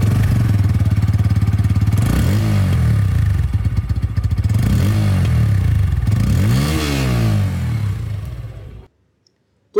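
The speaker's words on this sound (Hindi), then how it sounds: "क्योंकि E20 अपग्रेडेड है तो इसकी जो साउंड है वो भी मैं आप लोगों को यहां पर सुनाना चाहूंगा N150 में।" A 2023 Bajaj Pulsar N150 E20 motorcycle engine idles loudly up close and rises in two revs, each climbing and falling back, then the engine cuts off near the end.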